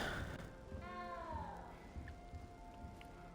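A cat meows in the video game Hogwarts Legacy: one drawn-out, rising and falling meow, fairly close, over a low game ambience with no talk.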